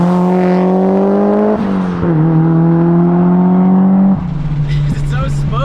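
A Mitsubishi Evo heard from outside as it drives past, its engine buzzing loudly and revving through a couple of abrupt gear changes, with the pitch shifting as it goes by.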